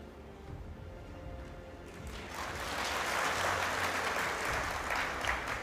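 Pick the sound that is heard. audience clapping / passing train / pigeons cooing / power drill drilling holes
audience clapping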